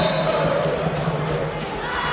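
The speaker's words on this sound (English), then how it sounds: "That's the only job Zambia has to overcome is the supporters' noise." Supporters cheering and roaring at a Zambia vs Zimbabwe volleyball Olympic qualifier, a dense, continuous crowd din filling the arena with steady loudness and occasional thumps.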